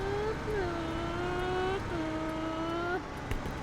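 A big tractor engine in the farming video game Farming Simulator 15 drones steadily on a narrow road, its pitch dropping and rising as the revs shift, with no talk over it.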